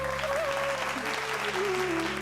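A seated audience claps at a kirtan devotional performance, giving a dense, even wash of applause that holds steady throughout, with a faint sustained musical tone beneath it.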